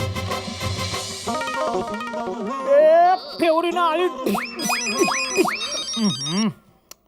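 A melodic electronic ringtone plays loudly, a cascading jingle of rising and falling tones, over background music with a voice briefly beneath it.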